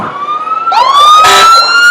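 A South Fork Fire Department fire engine siren wails at a Christmas parade, rising and holding loud and close over crowd noise, with a brief horn-like blast midway.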